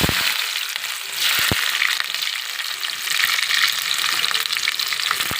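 Onion pieces frying in hot oil for a potato and drumstick curry, a dense, loud, continuous sizzle heard up close with a few brief knocks.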